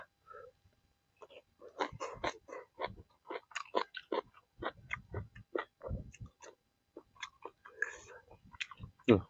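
Close, wet chewing and crunching of stewed chicken feet, biting down to the bones, with soft gnawing in an irregular rhythm, plus some quiet mouth noises.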